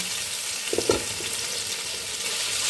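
Okra and green chillies fry in hot oil in a pan with a steady, close sizzle, and a brief stir or clink sounds near the start.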